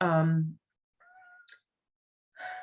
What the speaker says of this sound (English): My cat keeps whining to me to feed her